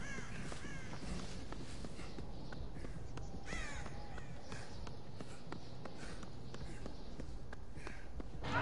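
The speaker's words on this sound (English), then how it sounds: "Oh, fucking crows." Crows caw repeatedly in the horror game Dead by Daylight, scratchy calls rising over steady game ambience with soft footstep-like thuds.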